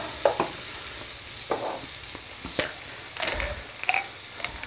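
Onions and mushrooms fry in a pan for beef stroganoff, a steady quiet sizzle broken by several sharp scrapes and clinks of a utensil stirring against the pan.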